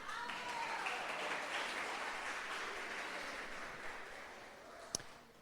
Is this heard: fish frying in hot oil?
no